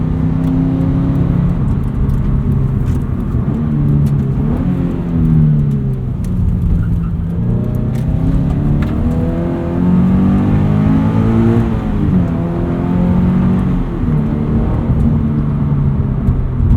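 A Subaru BRZ on lighter 16-inch wheels with stock brake pads accelerates steadily, its engine drone rising and falling in pitch through the gears, close and loud from inside the cabin with continuous road rumble and no talking.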